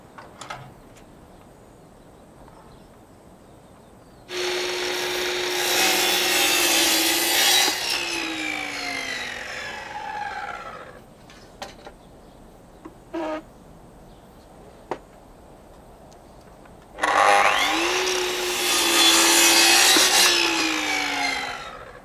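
A saw cutting through a timber rafter for a pergola attached to a house: two loud, close bursts of cutting, each a few seconds long, with the pitch sliding down as each ends and light taps in the gap between.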